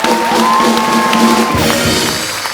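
A studio audience on The Kapil Sharma Show cheers and applauds loudly for a guest, a dense, continuous roar of crowd noise with shouts and a high whistle-like tone riding over it, fading slightly at the end.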